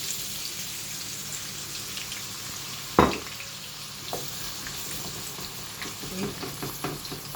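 Onion fries in hot oil for an egg stew, making a steady crackling sizzle with one sharp spoon clack against the pot partway through and a few lighter stirring scrapes later.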